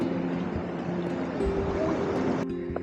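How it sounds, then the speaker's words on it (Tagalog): Sea waves wash at a camping spot by the Maragondon fish sanctuary, a continuous rolling surge with a steady tonal hum over it, moderately close, ending in a slight drop. "kahit na malakas yung alon"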